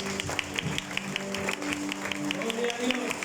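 A church congregation claps together during a worship service, a dense steady patter of many hands with a few murmured voices underneath.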